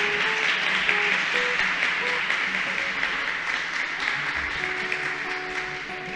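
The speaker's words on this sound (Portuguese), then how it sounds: "aplauda ao Senhor." A Portuguese-speaking church congregation applauds in steady, continuous clapping that fills the room, with faint sustained musical tones running underneath.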